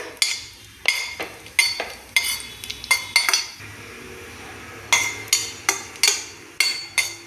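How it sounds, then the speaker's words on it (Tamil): Cashew nuts sautéed in a pan for sweet potato laddu, a series of sharp metal spoon scrapes and clinks against the pan in uneven bursts, close and clear with a faint sizzle underneath, no voices. "அதை நல்லா வதக்கிக்கோங்க."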